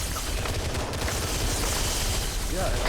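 Gunfire in the Halo video game, a dense, continuous clatter of shots and blasts filling the whole stretch at steady loudness, with no pauses.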